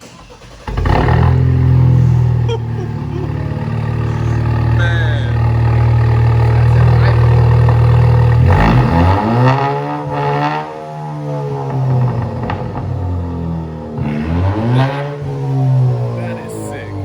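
An Alfa Romeo Giulia fitted with a Monza exhaust revs loudly and close by, holding a steady deep drone before swinging through rising and falling revs.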